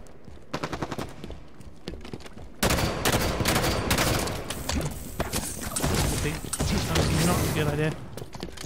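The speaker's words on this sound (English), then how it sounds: "It's never necessarily a bad idea to just fire a few shots off" Gunfire in the Halo 5: Guardians video game on the Medusa map, with bursts of rapid automatic shots that grow louder and denser partway through, continuing as a sustained close exchange.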